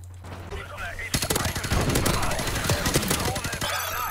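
Rapid bursts of video game weapon fire crackle loudly and densely after a quiet opening second, continuing almost without a break to the end.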